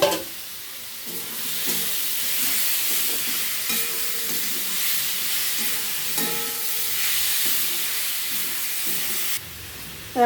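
Potatoes fry together with a cooked spice paste in oil, giving a loud, steady hiss and sizzle up close, with intermittent scraping stirs before the sound cuts off near the end.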